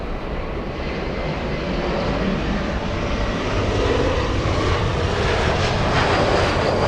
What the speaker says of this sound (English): There's a 787 flying to Warsaw.